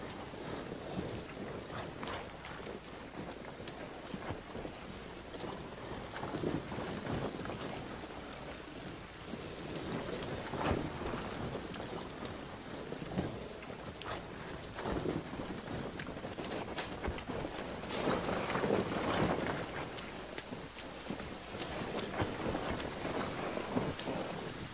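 Steady rain in the survival video game The Forest, a continuous hissing downpour with scattered heavier splashes and low rumbling swells, fairly quiet and unbroken by talk.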